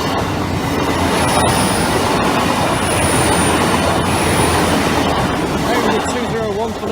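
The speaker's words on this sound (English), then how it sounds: "Because here's our first train already." A train passes Doddington Road level crossing at close range, with a loud continuous rumble, rhythmic clatter of wheels over the rails and high squealing wheel tones held throughout.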